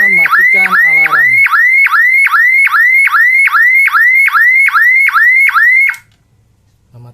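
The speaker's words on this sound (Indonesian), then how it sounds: "Menutup pintu kembali tidak akan mematikan alarm." An emergency exit door alarm, set off by opening the door, blares close and loud as a rapid, repeating rising electronic whoop, then cuts off abruptly, leaving near silence.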